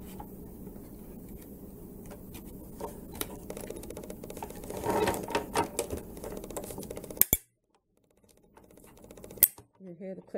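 A manual die-cutting machine clicks repeatedly as a metal envelope die on stacked plates is cranked through paper, sharp clicks running under a person talking before a brief quiet and a few final clicks.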